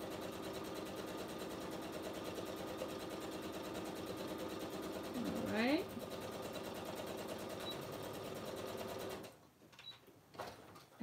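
Sewing machine stitching the lining of a fabric binder cover with pockets, a steady fast mechanical whir that runs for most of the clip, then stops and leaves a few faint handling noises.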